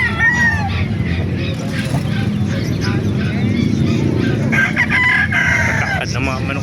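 Several roosters crow repeatedly at the Calumpit market amid clucking fowl and a busy crowd, with overlapping calls near and far and talk in the background.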